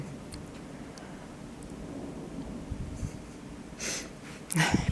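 Thunder from a dry thunderstorm rolling in off the Atlantic to the west over Brittany: a low, steady rumble throughout, swelling into a sharper, louder crack near the end.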